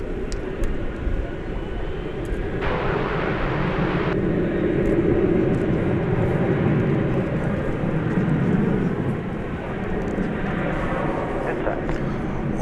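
An American Airlines Boeing 737-800 jet airliner, flight 2944 to Boise, Idaho, rolls at DFW Airport with a steady broad engine roar over the whole stretch, swelling slightly in the middle, while someone talks over it.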